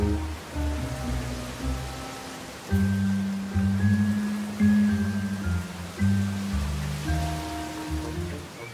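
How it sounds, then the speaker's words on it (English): Steady rain falls in Minecraft, a continuous hiss of drops with soft game tones and low sustained notes underneath, no voices. "Oh, rain."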